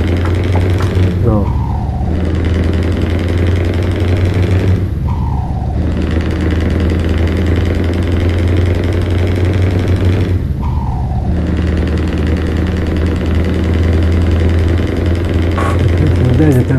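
Truck engine and exhaust in Euro Truck Simulator 2 drone loudly and continuously, with a deep rumbling tone that drops briefly three times as the gears shift, over a steady mechanical hum.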